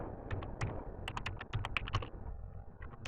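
Quick, irregular clatter of keys on a computer keyboard during coding of a small Java program, close and crisp, with a short pause before the tapping picks up again.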